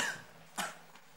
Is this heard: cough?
yes